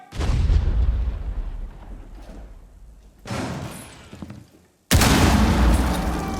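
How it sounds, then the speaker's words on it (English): Loud booming explosions from a frag grenade in the tactical shooter game Rainbow Six Siege: a heavy blast with rumbling decay, a second burst, then a brief silence before another sharp, full impact. "Throwing frag!"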